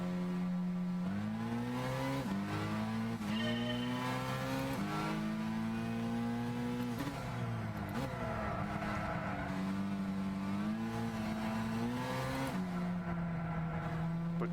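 Race car engine in the Gran Turismo 6 video game, revving steadily with rising and falling pitch through gear changes, loud and continuous for the whole stretch with no talking.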